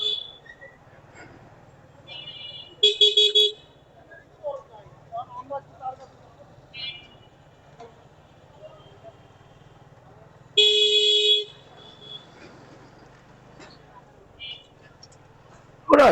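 Vehicle horns honk in Moghbazar traffic in Dhaka: two loud, sharp blasts and a few shorter toots break through the low road rumble while someone talks.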